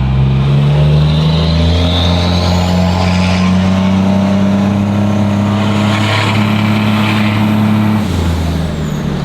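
A loud turbocharged 1200 hp street truck engine drones steadily with a turbo whistle rising over it, building revs before dropping off near the end.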